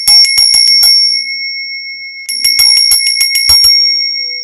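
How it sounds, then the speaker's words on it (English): A bell rung to clear the energy gives loud, bright, rapid metallic dings, one quick burst of strikes, a pause, then a second burst, with a ringing tone held between the strikes. "the bell has protected you"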